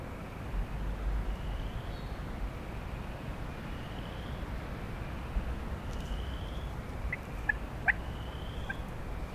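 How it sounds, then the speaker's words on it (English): Faint turkey gobbles carry from a distance over steady outdoor noise, a few short calls scattered across the quiet stretch. "hearing turkeys gobble"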